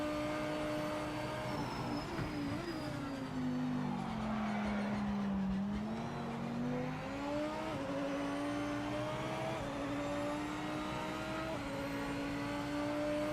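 A Porsche race car in the Project Motor Racing video game drives on, its engine a steady loud whine that dips during braking and climbs again as it accelerates, with a hint of tire skid. No one speaks.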